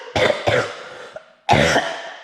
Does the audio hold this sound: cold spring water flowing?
no